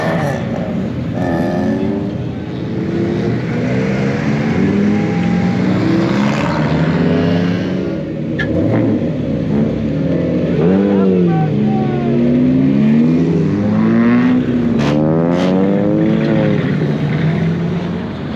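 Race cars on a parade lap at a 24 Hours of Lemons endurance race rumble and rev together in a loud continuous drone, with pitches sweeping up and down as they pass, while a person talks over it.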